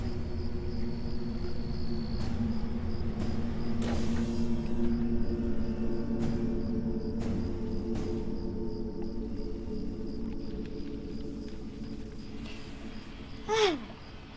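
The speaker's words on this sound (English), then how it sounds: "the little ambient effects going on in the background, like the crickets" Ambient crickets chirp in the background of the video game StarCraft 2, a faint continuous insect trill under steady game ambience and occasional effects, with a brief rising tone near the end.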